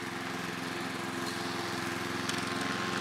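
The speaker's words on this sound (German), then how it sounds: "bitte, lass mich mähen" A lawn mower runs steadily at close range on a mossy lawn after its blade has been freshly sharpened, a continuous buzzing engine drone with no voices.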